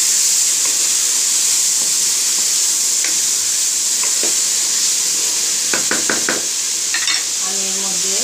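Chicken and vegetables cook over high heat in a pan, a loud continuous steamy hiss with a few quick knocks and stirring scrapes, plus a brief tonal clatter toward the end.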